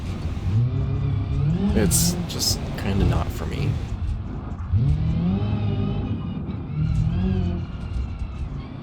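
The Pessima car in BeamNG.drive, an older version of the model, with its engine revving up and down in repeated rising and falling pulls, loud and steady, while someone talks over it.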